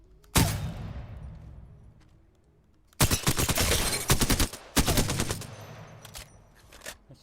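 Light and submachine guns firing in Apex Legends with attachments fitted: a single sharp shot, then two long rapid bursts of close, loud automatic fire with short pauses and a few trailing shots.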